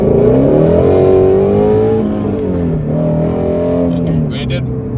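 A Ford Shelby GT350's 5.2-litre V8 making 526 horsepower revs loudly and close by, its deep rumble swelling and sagging in pitch over a few seconds before easing off.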